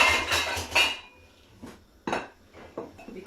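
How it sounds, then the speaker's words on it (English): A knife cutting a pineapple by hand without a chopping board, heard as a few sharp close scraping and tapping cuts at first, then sparse separate knocks and slices with quiet gaps. "this is how I cut my pineapple"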